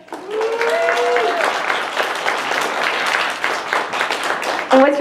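A convention panel audience claps for a volunteer called up from the front row, a full burst of applause lasting several seconds with a brief cheer or voice near the start and end.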